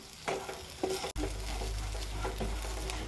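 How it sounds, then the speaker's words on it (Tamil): Pirandai (adamant creeper) with grated coconut being stirred and sautéed in a pan, a steady close sizzle with scraping stir strokes, a sudden brief drop and then a fuller, louder frying hiss. "தேங்காய் சேர்த்து வதக்குறோங்க."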